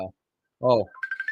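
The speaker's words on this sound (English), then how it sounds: "Somebody's calling me, and that's a phone call on my" Phone ringtone from an incoming call, a short run of bright repeated electronic tones that begins just after a voice and stays fairly loud.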